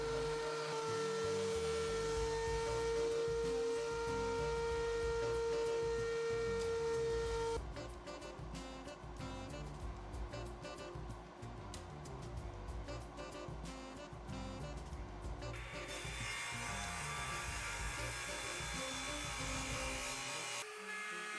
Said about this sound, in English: After the glue up, we plane it one last time.